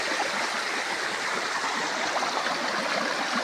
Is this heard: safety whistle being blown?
no